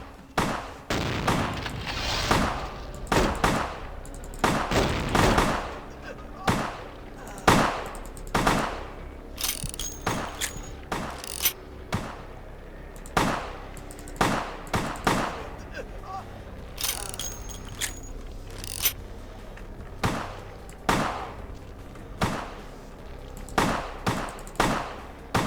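Gunfire in the Vampire the Masquerade: Bloodlines game, with shotgun blasts mixed among rapid bursts and single shots. Sharp cracks repeat irregularly throughout, loud and close, with some clustered volleys and short gaps between them.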